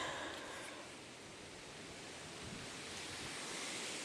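Steady broadband rush of wind over a garden tomato patch before rain, a dense even roar with slow swells and no voices.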